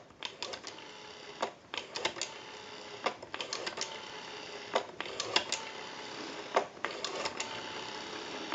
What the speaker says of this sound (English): We have a very smooth return on our rotary.